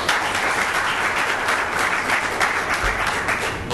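An audience at a Board of Education meeting breaks into loud, sustained applause, a dense continuous patter of many hands clapping close by.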